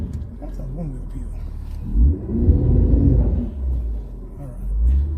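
An Infiniti Q50 launches hard, its engine swelling into a rising rumble midway before easing off. A person talks over the engine throughout.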